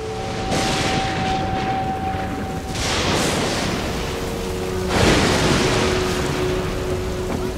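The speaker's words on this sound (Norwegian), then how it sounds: "Da ble det et voldsomt uvær på sjøen, så båten nesten ble borte mellom bølgene" Stormy sea with heavy waves surging in broad, roaring washes, loud and continuous, with swells building every couple of seconds.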